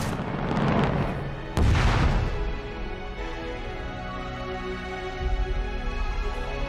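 A weapon fires in a scene from the sci-fi series The Expanse: a single sharp, heavy boom bursts out over a rumbling background, then a long low reverberant tail fades away, with a second thud later.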